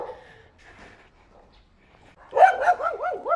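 An anxious mixed-breed street dog (aspin) barks and yelps close by in a loud, wavering burst after a quiet stretch, with whining pitch swings as it continues.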